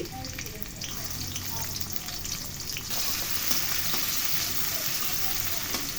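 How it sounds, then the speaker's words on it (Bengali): Two tablespoons of onion fry in four tablespoons of hot oil in a wok for potol dolma, a continuous, fairly loud crackling sizzle that grows busier about halfway through. "কড়াই নিয়ে তাতে ৪ টেবিল চামচ তেল গরম করে তার মধ্যে ২ টেবিল চামচ পেঁয়াজ দিয়ে দিচ্ছি"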